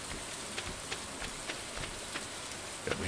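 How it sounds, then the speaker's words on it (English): Steady rain falls on a farm in the video game Stardew Valley, a dense, even patter with a few sharper drops now and then throughout. "It is raining"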